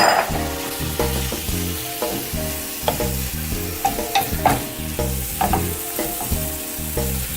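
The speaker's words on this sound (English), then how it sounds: "we're adding the beef to the mixture and we're gonna cook it for 5 more minutes with the beef" Beef sizzles in a pan with mushrooms and onions for stroganoff, a loud continuous fry broken by repeated scraping strokes of a spoon or spatula.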